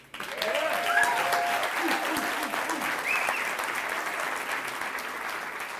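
An audience at an Angel Studios event breaks into sustained applause, a dense steady wash of clapping that rises sharply and holds, with a voice faintly heard over it.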